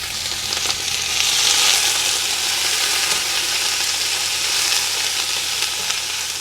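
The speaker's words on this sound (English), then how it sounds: "We want to let this saute for about 2 minutes" Onions sauteing in a pan over low heat, a steady close sizzle and crackle of frying that swells slightly and holds without pause, with no talking.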